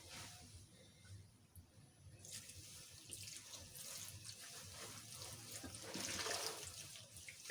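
A dirty curly wig gets washed in a sink under a running tap, the water splashing and gushing in a steady stream that grows louder toward the end, with no talking.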